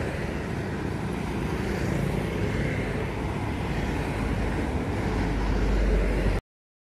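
A bus with a Hino AK8 engine, bodied as a Jetbus HD rebuilt from a Scorpion King, rolls past outdoors, its steady broad engine and road rumble holding loud throughout with wind buffeting the microphone before cutting off abruptly.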